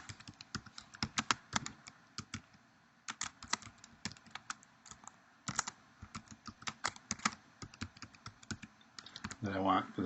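Typing on a computer keyboard while entering a web page title, close, crisp key clicks in quick irregular bursts with brief pauses between words, and faint talk in places.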